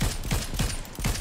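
Rapid gunfire in the video game Fortnite, about five quick shots in steady rhythm over roughly a second, fairly loud and up front.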